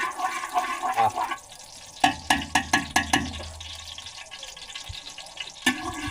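Hot cooking oil in a pan heating up before garlic goes in for a sauté: a steady sizzling hiss with a quick cluster of sharp, close pops and crackles in the middle, then a settling fizz.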